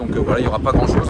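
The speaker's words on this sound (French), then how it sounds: "Désolé pour le vent." Wind buffets a microphone outdoors near a boat's moorings, a steady low rumble under continuous close French speech.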